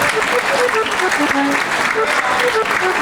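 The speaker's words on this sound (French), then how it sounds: "Ceux qui arrivent pour s'installer maintenant, vous pouvez les applaudir." A theatre audience at a cine-concert for a Lubitsch silent film claps in a dense, steady burst that fills the hall, with a voice heard over it.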